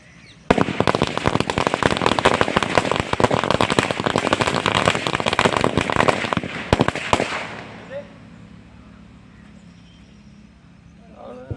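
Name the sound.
Diwali firecrackers bursting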